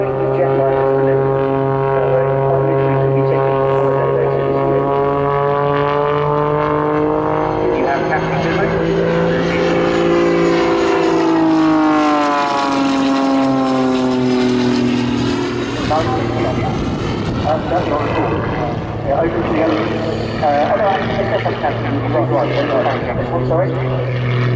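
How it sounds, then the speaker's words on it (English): A jet-powered Pitts aerobatic biplane performs a barrel roll with snap rolls at a seaside airshow, its loud engine roar rising and falling in pitch as it passes, under continuous commentary over a public address system. "He's pulling down that barrel roll. A couple of snaps as he was going round."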